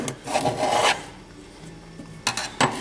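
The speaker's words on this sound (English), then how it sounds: "Go once around with a screwdriver." A screwdriver rasps around a sink drain, scraping off excess plumber's putty in a long grating stroke, then two short close scrapes near the end.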